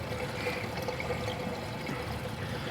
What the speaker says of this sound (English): I can control the water going to each one of these by restricting the water flow